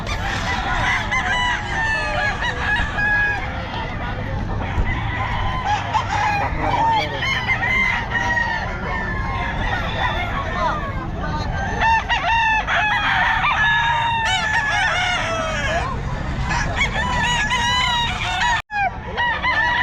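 Several sweater-breed stag roosters crow repeatedly and cluck close by at a busy poultry market in Bocaue, with a steady crowd murmur underneath and faint talk.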